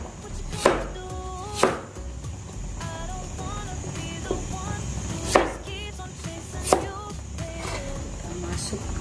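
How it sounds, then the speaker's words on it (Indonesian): A knife cuts thin slices of ingredients for an herbal cough tea on a board, giving about five sharp, separate chops spaced a second or more apart, close by, while a person talks throughout. "kita iris agak tipis juga biar cepat matang keluar sarinya"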